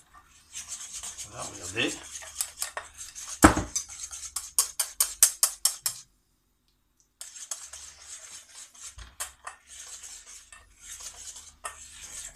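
A spoon or whisk scrapes and clinks rhythmically against a bowl while pear tart filling is mixed, a quick series of close, bright strokes that break off, then resume after a short silence, with a brief spoken remark partway through.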